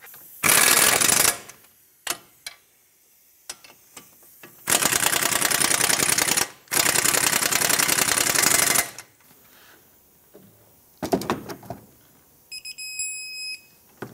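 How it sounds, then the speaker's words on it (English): A wrench drives caliper mounting bolts tight on a 2012-2020 Ford Focus during front wheel bearing work, in loud, harsh rattling bursts of a few seconds each, with a few short clicks and a faint electronic beeping near the end. "snug them up, and then torque them to 129 foot-pounds"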